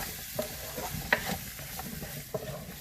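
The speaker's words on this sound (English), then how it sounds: "Now we are going to stir this and cook this for 3 to 5 minutes." Garlic and inch-sized green tomato pieces stirred and frying in a pan for a chutney, with a quiet steady sizzle broken by soft scrapes and clicks of the spoon against the pan.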